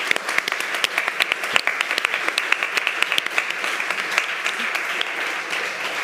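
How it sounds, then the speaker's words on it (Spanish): Conference audience applauding, a dense steady patter of many hands clapping throughout, fairly close and even in level with no pause. "un aplauso a las dos que han terminado"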